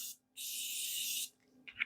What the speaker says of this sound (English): we're going to go ahead and spray our face again